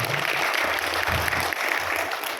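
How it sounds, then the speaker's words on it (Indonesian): An audience at an entrepreneur seminar for PT. Volten International Indonesia bursts into continuous, dense applause, loud and sustained with a few heavier thumps underneath. "Tepuk tangan untuk Anda Bapak Ibu."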